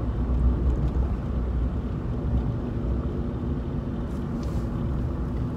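A Suzuki Alto Works driving along a snowy road, heard from inside as a steady, low, rumbling drone of engine and road noise, constant and moderately loud with no talking.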